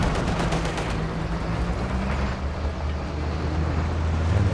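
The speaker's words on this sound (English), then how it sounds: "Oh, friendly fire there from the T-34." A T-34 tank fires in a Company of Heroes 2 battle, a rapid rattling burst of gunfire over a low rumbling engine drone that continues after the shots stop.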